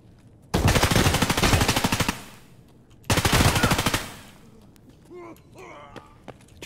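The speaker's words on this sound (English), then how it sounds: "Trying to blind fire me" Automatic gunfire in the video game Escape From Tarkov, heard as two long, loud, rapid bursts close up, each lasting over a second, followed by softer scuffling sounds and brief game noises.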